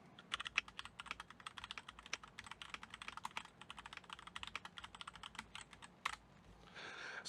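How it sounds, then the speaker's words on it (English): Rapid keystrokes clatter in an uneven stream, crisp clicks and clacks of a Keychron K4 V2 mechanical keyboard typed close up, with a brief louder burst near the end. "So when I'm typing, I'll give you a test here."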